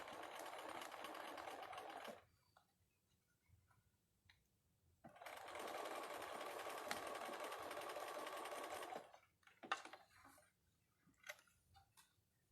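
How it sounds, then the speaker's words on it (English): A sewing machine stitches across a waist seam in two sustained bursts of rapid mechanical whirring, close and even, separated by quiet pauses, followed by a few scattered clicks and handling sounds. "I'm going to sew right across the waist"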